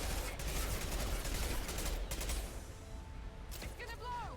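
Gunfire rattles through a combat scene in the video game Mass Effect 2, a steady dense roar of shots that thins out partway through, heard at low level with a voice speaking over it.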